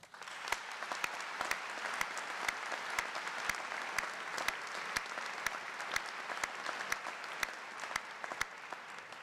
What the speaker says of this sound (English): Let's give those outstanding alumni a warm round of applause.